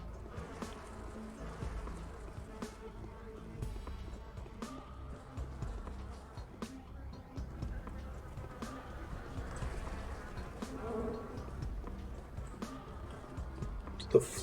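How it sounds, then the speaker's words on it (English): Buzzing flies in the Pathologic video game, a steady insect drone continuing throughout at moderate level, dotted with small clicks and faint background sounds. "It's the fly buzzing sound."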